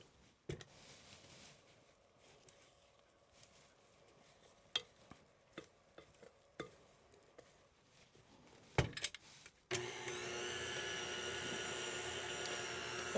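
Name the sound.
electric stand mixer beating corn syrup parkin batter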